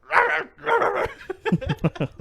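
Person imitating a dog barking, a run of short sharp yelping barks following a stretch of voiced, talk-like vocalizing, close and fairly loud.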